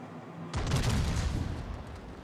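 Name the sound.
warship gun fire, video game naval battle (Tirpitz)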